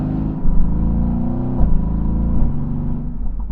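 A Mercedes-AMG GT's V8 engine holds a steady, loud, deep rumble throughout, with slight rises in pitch as it revs, close and alone with no talking.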